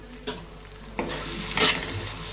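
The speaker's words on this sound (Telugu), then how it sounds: "కదుపుతూ ఉండండి ఫ్రై కదా అడుగట్టే అవకాశం ఉంది" Ridge gourd fry is stirred in a pan, with a continuous sizzle broken by a few distinct scraping strokes of the spoon against the pan, the loudest near the end. No one speaks.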